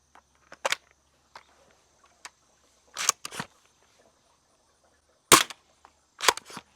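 A Worker Harrier foam dart blaster fires lighter purple-tipped darts, each shot a sharp, close snap with a short mechanical follow-up, about five shots spaced irregularly over quiet gaps.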